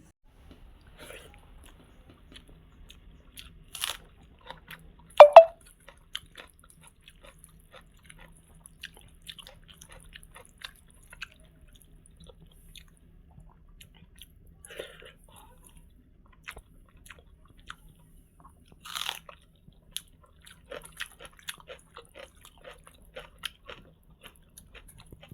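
Someone eating mashed rice with raw onion makes soft, scattered chewing and crunching sounds close up, with a couple of sharper bites standing out, mostly quiet between mouthfuls.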